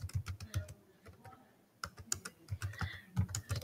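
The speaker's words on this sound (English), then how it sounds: "So I am going to type in" Keystrokes on a computer keyboard while entering longer paragraph text into a Google Docs document, a quick uneven run of close clicks with a short pause near the middle, no voices.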